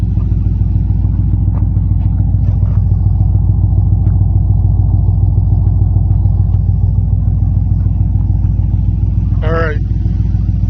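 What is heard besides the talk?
car engine running with baffled dual exhaust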